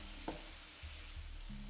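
Turmeric being stirred into dalcha in a hot pan, a soft sizzle with a few scraping strokes of a spoon at irregular intervals, close and fairly quiet.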